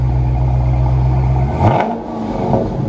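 Deep, loud rumble from the dual exhaust of a 2018 Dodge Charger 392 Scat Pack with the 6.4L HEMI and mid mufflers cut off. The idle swells briefly as the engine revs, then settles back, all close by.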